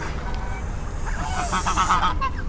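Geese in a natural village setting give a few short honks in the middle of the stretch, over steady low background rumble and faint voices.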